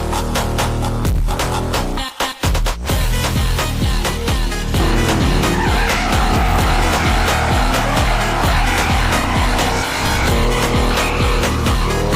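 An Audi RS3 drifts on dry asphalt, its engine roaring loud and close almost throughout, with squealing tires mixed in and a brief dip near the start.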